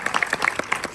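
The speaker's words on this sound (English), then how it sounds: "Let's give a round of applause to Disney." A short burst of scattered hand clapping from a small audience at a Zootopia 2 Q&A, brisk and fairly faint.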